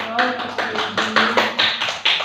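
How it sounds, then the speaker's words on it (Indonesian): A group claps hands in rhythmic, evenly spaced bursts in a school training session, about eight sharp clusters of claps at a steady pace, close and fairly loud, with voices mixed in underneath. "terima kasih tepuk tangan"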